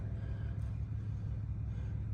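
Steady low exhaust rumble from a 2018 Fiat 124 Spider Classica with a six-speed manual, idling close by with an even, unbroken drone and no voices.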